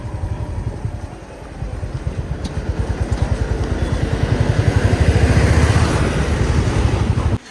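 A motorcycle engine on a mountain road ride from Bir toward Dharamshala runs with a steady, throbbing exhaust pulse that grows louder and more insistent as it revs up, then cuts off abruptly at the end.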